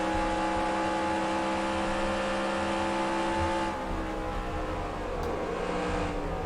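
Steady, continuous race car engine drone from the NASCAR Racing 2003 Season video game, a constant hum with no clear revving, holding level throughout before easing slightly near the end.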